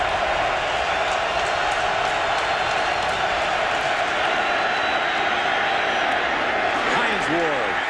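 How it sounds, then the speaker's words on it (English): A packed stadium crowd cheers for the Eagles defense on third down against the Steelers, a loud, sustained roar that holds steady throughout, with a faint thump near the end. "Crowd on its feet, 3rd and 10, cheering on this Eagles defense"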